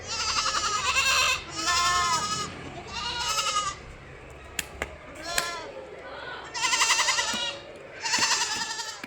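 Three-month-old crossbred goat kids bleat loudly and repeatedly nearby, several long wavering cries in succession with a few short knocks between them.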